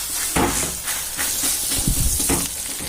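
Methi thalipeeth patted onto a medium-hot tava, a steady bright sizzle and hiss of frying dough with soft pats and dabs of a wet hand pressing it, close and continuous.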